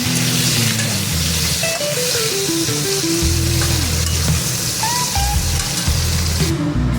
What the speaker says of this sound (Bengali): আর এদিকে আমি পটলগুলো ফ্রাই করে নিয়ে নিচ্ছি হালকা।